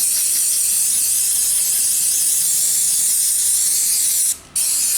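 Carburettor rebuild spray jets out in a continuous loud hiss, cutting off briefly near the end before resuming.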